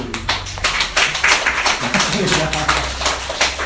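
A church congregation at Sunday worship applauds first-time visitors, a dense patter of clapping from many people in a hall that swells and holds steady, with some voices mixed underneath.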